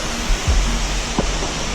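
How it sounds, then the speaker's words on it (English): Close, loud broadband rushing of water tumbling over a rock waterfall on Mount Moosilauke in New Hampshire, steady and brief, with a few faint low thumps mixed in. "Another gorgeous rock waterfall."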